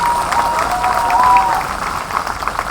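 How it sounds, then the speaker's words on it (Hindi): A comedy show audience claps loudly and continuously, a thick wash of applause with a faint tonal hum underneath, tapering slightly near the end. "जोरदार तालियां अपने लिए बजा लीजिए"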